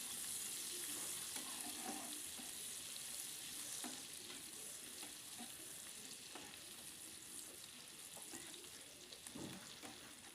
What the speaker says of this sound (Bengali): দিয়ে নাড়াচাড়া করে আমি ভালো করে একটু লাল করে ভেজে নেব